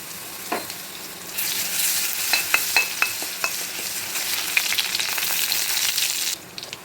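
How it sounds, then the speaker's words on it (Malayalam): Crushed ginger-garlic paste sizzles and spatters as it hits hot oil in a pan, a steady close frying hiss with sharp crackling pops, no talking. "എണ്ണ ചൂടായിട്ടുണ്ട്. അതിലേക്ക് ഇഞ്ചി വെളുത്തുള്ളി ചതച്ചത് 1 ടീസ്പൂൺ ഇട്ട് കൊടുക്കാം."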